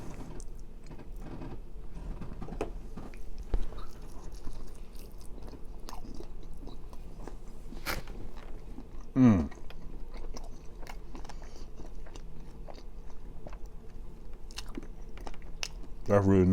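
Someone bites into a celery stick dipped in ranch and chews it, with faint crunchy snaps and soft mouth sounds close up, and a few louder clicks and scrapes amid quiet background.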